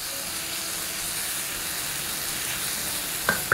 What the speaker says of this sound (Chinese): 把番茄果胶炒出来之后，接下来我们下入鸡蛋